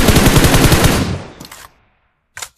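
Rapid automatic gunfire in an online shooter game rattles loud and close for about a second, then trails off into silence before a short final burst.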